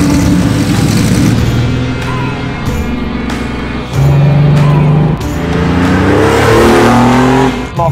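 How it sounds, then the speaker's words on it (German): A Porsche 964 RSR restomod race car engine revs loudly up close, its throaty note climbing and dropping through repeated throttle blips and gear changes, with brief dips between pulls. "Der wunderschöne Porsche 964 RSR-Umbau."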